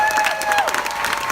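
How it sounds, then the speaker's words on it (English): Audience applause and light cheering greet the concert master at a Disney theme park's live Pixar orchestra show, a short steady patter of many hands, with a sustained musical tone carrying on beneath and sliding down midway. "Give her a round of applause."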